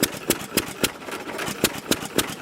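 A 1920s Novo 3 hp Model S upright hit-and-miss engine runs alone, giving sharp, evenly spaced firing pops about every quarter second over a steady mechanical clatter, loud and close.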